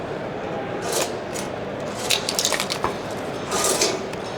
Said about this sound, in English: So I cut it to length, come over here to my nice little nifty bender.